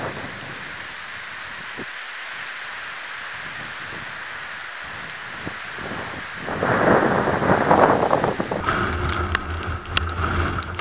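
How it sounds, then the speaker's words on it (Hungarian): A supercell thunderstorm arrives on the outskirts of Csongrád in the early evening. A steady rush of wind and rain swells into a louder, gusty roar midway, then heavier, crackling rain and rumble take over near the end, with no voices. "Így érkezett Csongrád határába vasárnap kora este a Szupercella."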